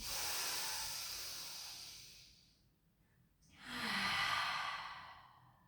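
A long, breathy exhale during a supine pilates spine stretch fades out, followed by a brief quiet pause and then a second soft, close breath.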